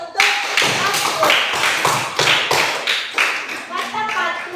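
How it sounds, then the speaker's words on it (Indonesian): A classroom gives a round of applause for a student named Fatur, a steady patter of many hands clapping together in a loose rhythm, close and lively, with voices mixed in. "Oke, tepuk tangan dulu untuk Fatur."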